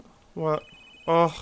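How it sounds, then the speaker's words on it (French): A phone in The Sims 3 rings twice, two short, bright electronic trills separated by a brief pause, while a player speaks over it. "C'est mon téléphone qui sonne."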